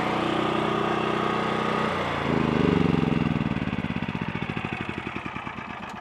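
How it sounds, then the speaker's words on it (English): A Predator portable generator set up for whole-home backup runs with a loud, steady engine drone, then drops in pitch and sputters into a slowing, pulsing chug as it is shut down. "now we can shut the generator down"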